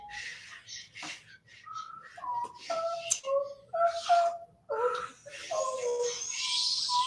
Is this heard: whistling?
yes